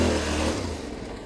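A Yamaha Tenere 700 adventure motorcycle accelerating while drifting, its engine note steady and fairly loud, easing off slightly over a brief stretch with no talk.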